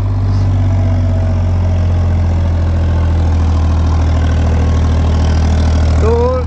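Powertrac Euro 55 tractor engine working soil, a loud, steady low diesel drone that runs throughout without a break, with faint talk over it.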